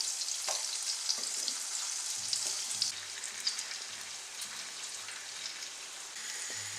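Steady hissing sizzle of pear slices frying in butter in a pan over very low heat, continuous and close, with occasional small pops and scrapes.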